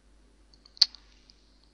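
A single sharp computer mouse click stands out clearly in a quiet room, with a few faint softer clicks around it.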